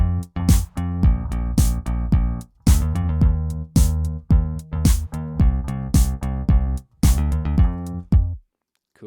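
Punchy drum hits join sustained bass and chord tones in a recreation of a song, forming a loud, rhythmic loop that pauses briefly between phrases.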